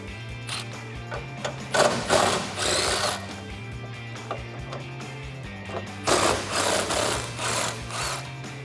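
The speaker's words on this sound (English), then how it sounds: "And then we can remove those 15 millimeter bolts with a 15 millimeter socket." A 15 mm socket spins out 15 mm bolts holding the rear bumper of a 2009-2018 RAM 1500. Two loud bursts of rapid mechanical whirring and ratcheting rise above a steady low hum.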